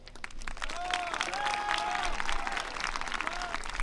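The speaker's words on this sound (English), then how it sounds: "feel free to clap for everybody" Audience applause at a high school spring instrumental concert in Wayne Hills, a steady wash of many hands clapping in a hall, moderately loud and continuous, with faint tonal sounds and murmurs underneath.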